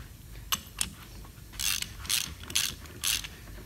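A half-inch fine-thread bolt is turned down into the bottom of a 2x2 plug valve plug, giving a few sharp metallic clicks followed by four quick ratcheting bursts, close and fairly quiet.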